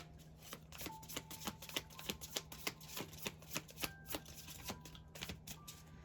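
Tarot cards shuffled in steady, crisp riffling bursts with sharp, close flicks and slaps repeating for several seconds.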